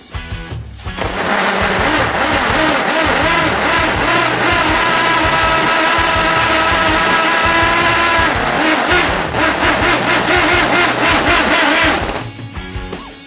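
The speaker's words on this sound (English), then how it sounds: "first I'm going to start this up to show you just how crazy this little engine sounds" A small Wankel rotary engine on a bench starts and runs hard at high revs, a loud, buzzing whine that holds steady for about ten seconds before cutting off.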